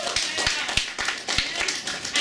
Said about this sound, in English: A round of applause for all our youth.